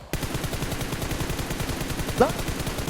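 Rapid automatic gunfire in PUBG Mobile rattles on in a steady close burst lasting the whole moment, with a brief voice cutting in near the end.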